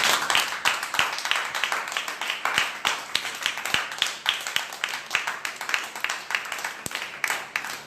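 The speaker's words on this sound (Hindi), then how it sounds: "पिता पुत्र पवित्र आत्मा और परमेश्वर के दास के लिए जोरदार तालियों के साथ स्वागत करें" Dense, steady applause from a church congregation welcoming a preacher at a Sunday prayer service, many hands clapping loudly and continuously throughout with a few sharper individual claps standing out.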